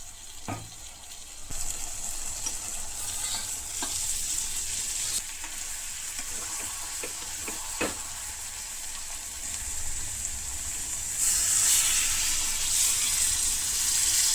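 Warm water is poured into a pressure cooker holding mutton curry, a sizzling, frying hiss with a few small knocks that swells into a louder, brighter rush of pouring near the end.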